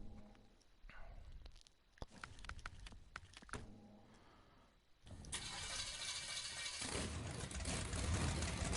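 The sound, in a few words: Insanity Crawler vehicle engine in a video game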